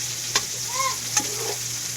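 Pork ribs fry with garlic and onion, a constant close sizzle with two sharp utensil taps against the pan and a brief ringing tone between them.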